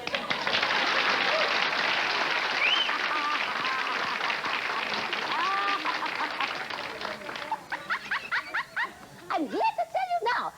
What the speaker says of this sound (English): applaud that one